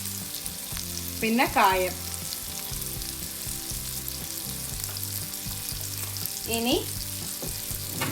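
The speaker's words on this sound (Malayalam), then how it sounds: "അപ്പുറത്ത് സംഭവം ആയിക്കൊണ്ടിരിക്കുന്നുണ്ട്, വേറെ വിഭവങ്ങൾ, അതുകൊണ്ടാണ് കേട്ടുള്ളൂ. ചീറ്റലും പൊട്ടലും ഒക്കെ" Loud spluttering and popping of other dishes frying in a nearby kitchen, a steady hiss with crackles, while a person talks briefly twice over it.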